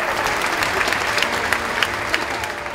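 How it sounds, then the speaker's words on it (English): Loud, close audience applause filling a packed house at a stage magic show, dense continuous clapping from start to finish with scattered sharper claps standing out. "a massive round of applause for every single one of you"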